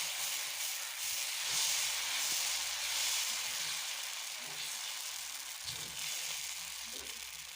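Maggi dosa batter sizzles and hisses steadily on a well-heated griddle, a close, continuous frying crackle with a few soft scraping and clinking touches and no talk.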